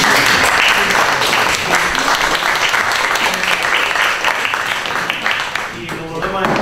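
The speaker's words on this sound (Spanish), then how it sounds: "Buen aplauso." Audience applause after two speakers at a panel event, a dense burst of many hands clapping loudly and steadily for several seconds, thinning slightly toward the end with faint voices mixed in.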